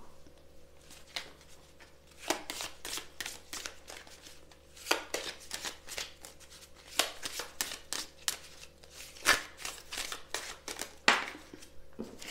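Tarot cards are shuffled and laid out on a table, a series of quiet, sharp riffling and slapping sounds in irregular bursts against a faint background hum.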